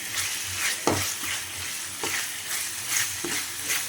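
Ginger garlic paste fries and is stirred in a pan for a spicy village-style chicken kurma, with a steady sizzle broken by a few sharp scrapes of the spoon, close and moderately loud, with no talking.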